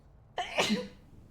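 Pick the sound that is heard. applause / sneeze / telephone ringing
sneeze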